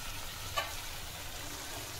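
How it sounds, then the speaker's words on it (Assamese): Leafy saag greens fry in a pan in an Assamese home kitchen, producing a faint, steady hiss of sizzling throughout, with one soft click early on. "এইফালে শাকটো যে ভাজিছিলোঁ এয়া"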